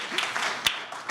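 An audience applauds at an entrepreneurship networking event, a short burst of dense clapping heard close and fairly loud with a few sharper claps standing out.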